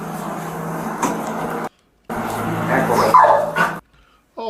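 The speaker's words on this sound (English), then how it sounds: "Oh, look at the doggy. He's at work." A police drug-detection dog barks and yips close by, excited bursts in two stretches broken by a short silence, mixed with whimpering over background noise.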